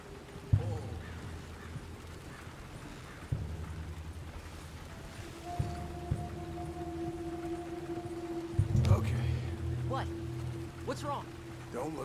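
Steady clip-clop of horse hooves on a road in Red Dead Redemption 2, moderately close, sitting over a low rumbling bed with a faint sustained tone drifting in and out.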